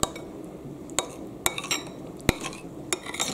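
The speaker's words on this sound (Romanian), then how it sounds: "se amestecă bine, bine, să nu avem cocoloașe" A spoon stirring vegetable strudel dough in a bowl, with irregular clinks and scrapes against the bowl sides and soft mixing noise between the knocks, close up and with no talking.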